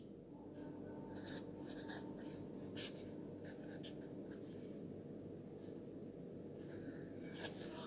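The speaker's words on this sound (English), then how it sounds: "Now I will write some examples." Math examples are written out by hand for a class 3 lesson, with a faint scratchy pen or marker scribbling in short strokes over a quiet steady background hiss, with no talking.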